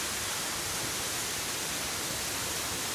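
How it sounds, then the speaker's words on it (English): Waterfall on the Elwha River trail: a steady, full-bodied roar of rushing water, broad and unbroken for the whole stretch with no voices over it. "Come look at the waterfall."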